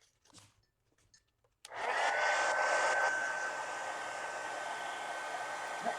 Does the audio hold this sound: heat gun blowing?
yes